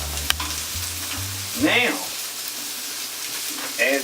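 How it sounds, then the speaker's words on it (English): Food sizzles steadily in a hot pan, with a soft clatter at the start and someone briefly speaking over the frying. "as I hear things are sizzling"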